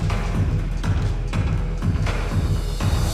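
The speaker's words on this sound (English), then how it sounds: "the battle bus music will sound like this." Dense, busy Fortnite battle bus music with a pulsing beat and layered synth tones plays loud and continuous, with no voices over it.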